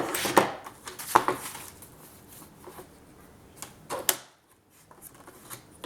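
A blade slicing through cardboard in a few sharp, close scraping strokes with crisp clicks between them, then a short quiet stretch and one more cut.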